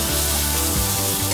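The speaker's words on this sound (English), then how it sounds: "At this stage, I'm going to add the turmeric powder. This is nicely fried." Turmeric powder and mint leaves fry in a pan with a loud, steady, close sizzle and a soft stirring scrape, with no voices.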